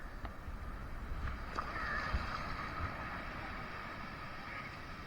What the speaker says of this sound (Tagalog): Ang laki ng alon.